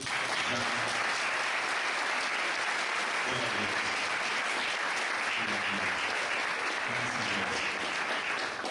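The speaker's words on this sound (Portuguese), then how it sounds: "Vamos chamar a Márcia, vamos aplaudir Jesus" A church congregation applauds continuously, a dense steady wash of many hands clapping at even loudness, with a faint voice or two underneath.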